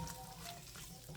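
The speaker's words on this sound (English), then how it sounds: "And this has been frying for about 2 minutes." Bell peppers fry in a pan for a chicken stir-fry, giving a soft, steady sizzle that stays faint and close throughout the short stretch.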